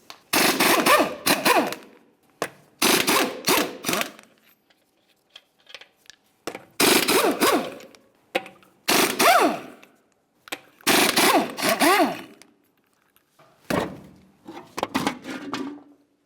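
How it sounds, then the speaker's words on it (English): Impact wrench spinning off the 22mm lug nuts on a Dodge Dakota wheel, about seven loud, close bursts of rattling, whirring hammering, each one to two seconds long, separated by short quiet gaps. "continue on to removing all 5 of your 22mm lug nuts and then the wheel"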